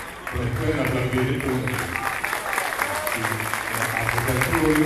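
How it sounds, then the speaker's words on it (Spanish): An audience at a conference applauds as a primary school receives an award, clapping steadily throughout while voices and some tonal sound run prominently over the applause. "Pueden aplaudir"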